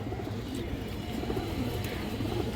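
A dense chorus of pigeons coos continuously in a crowded pigeon collection, low throaty calls layered over one another at steady loudness.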